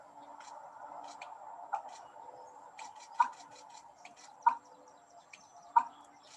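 A wading bird's breeding song rings out as a series of hollow, liquid plinks like water droplets, soft and spaced at roughly one-second intervals, faint against a quiet background with a few scattered ticks.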